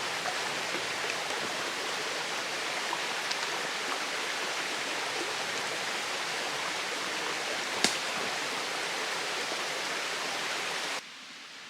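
A flowing stream beside the Appalachian Trail near Wilson Creek Shelter, an even broadband rush of water running steadily and close by, with one brief sharp knock near the end before the sound drops lower.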